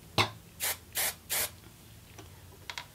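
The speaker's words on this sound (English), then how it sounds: "So I just want to give this a spray." Several short hissing bursts of hairspray sprayed onto hair, roughly evenly spaced, close up, followed by a couple of faint brief spritzes in quiet surroundings.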